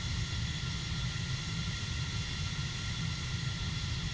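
Steady, even roar of Boeing 767-300ER jet engines in cruise, heard from inside the aircraft in the Prepar3D flight simulator, continuous and unbroken with no voices.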